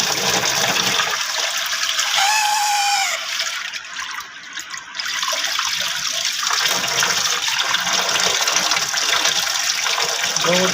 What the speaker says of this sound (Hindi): बहुत ही ज़बरदस्त पानी दे दी है।